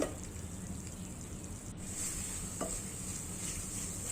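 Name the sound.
stirring kalakand mixture with milk powder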